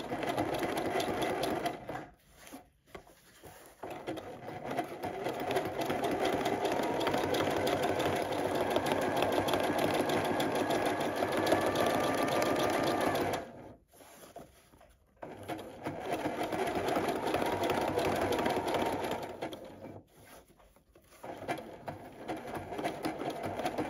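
A sewing machine does free-motion zigzag stitching at width 3.5, appliquéing fabric hearts onto paper: a close, steady mechanical whir that runs for long stretches, broken by a few brief stops and restarts.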